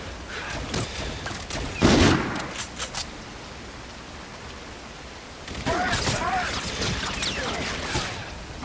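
Bursts of gunfire from many enemies in the shooter Call of Duty: Infinite Warfare, with sharp loud volleys near the start and a denser stretch of shots toward the end over a hissy, noisy background.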